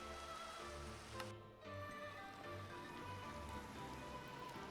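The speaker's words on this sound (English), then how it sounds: "Gosh, that rain is loud" Rain falling in a video game, a steady soft patter on surfaces with a constant hiss, faint and unbroken throughout.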